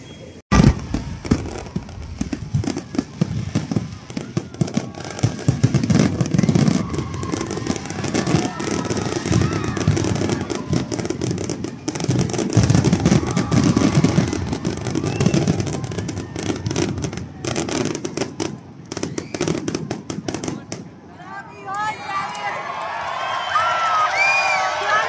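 New Year fireworks at Okada Manila crackle and pop continuously amid a noisy outdoor crowd, with scattered bangs and a rising murmur of voices toward the end.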